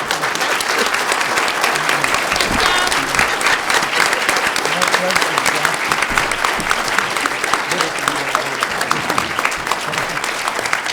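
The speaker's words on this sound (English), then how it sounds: "can we have another round of applause for Terry and Joe Harvey?" A crowd applauds loudly and continuously, dense clapping filling the room, with some voices mixed in underneath.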